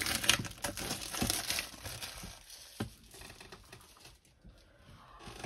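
Cellophane wrapping crinkles and crackles as it is peeled off a PaintGem paint-by-numbers kit box, a steady close run of crisp rustling bursts with brief pauses.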